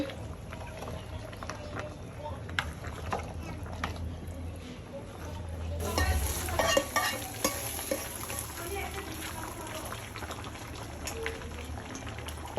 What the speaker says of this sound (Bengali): বাবি এখন নেড়ে দিচ্ছে